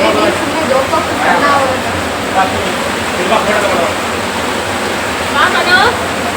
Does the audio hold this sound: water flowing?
yes